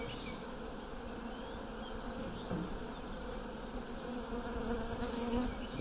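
Honeybees buzz steadily inside a hive that is already building comb, a dense, continuous drone close by with no talk over it.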